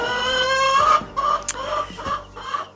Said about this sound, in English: we got our first batch of meat chicks